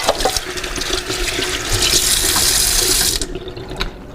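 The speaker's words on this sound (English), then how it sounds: "I'm just going to rinse this out real quick." Tap water running hard into a sink as something is rinsed out for a recipe filling, a steady close rush that shifts slightly, then cuts off near the end with a few drips.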